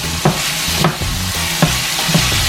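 Ackee and saltfish is stirred in a pan. A close, loud sizzle runs throughout, with a few spoon scrapes landing at irregular intervals.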